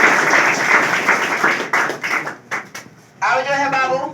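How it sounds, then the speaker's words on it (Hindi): Applause for a student at a class 10 prize distribution: a burst of clapping from a schoolroom audience that thins into scattered claps, then voices take over, with excited talk in the room. "इनके लिए बाबू जोरदार ताली"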